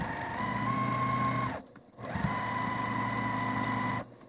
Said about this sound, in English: now we just need to go and sew that